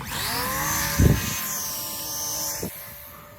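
Electric motor of an RC model plane, a Volantex 500 Cub or TrainStar Stunt 500, whining steadily and rising in pitch during takeoff, with a couple of brief thumps along the way.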